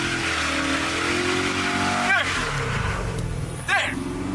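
A Dodge 5.7 Hemi V8 pulling hard in second gear: a loud, steady engine roar held close, with rising rev sweeps as it accelerates, one near the middle and another near the end.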